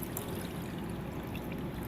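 Water trickling and pouring into a large plastic Gold Claw gold pan, a soft continuous splashing stream heard up close and fairly quiet.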